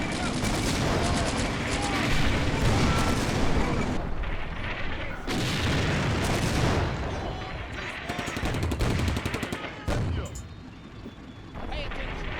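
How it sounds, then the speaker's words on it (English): Heavy artillery barrage in the WWII tactics game Combat Mission: Beyond Overlord, with loud booming impacts and crackling gunfire rolling almost continuously, close and dense, easing off briefly near the end while a voice talks over it. "I think I'm gonna spend all the artillery."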